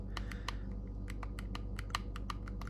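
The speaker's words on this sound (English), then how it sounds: "Start and select are clicky, and the D-pad feels great too" Buttons on a Bitt Boy handheld game console click in quick, light taps, some in short bursts and some spaced apart, close and quiet over a steady low background hum.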